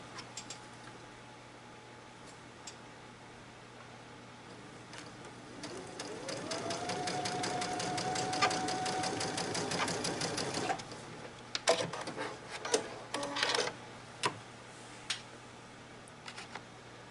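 A sewing machine stitches a quilt block seam, starting quietly, rising into a steady rapid whirring run of several seconds, then a few short bursts of stitching, all fairly faint and close.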